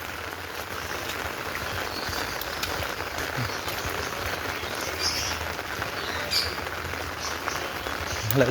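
Heavy rain falls outdoors along a concrete road, a dense, even hiss of drops hitting surfaces that holds steady throughout with no talking.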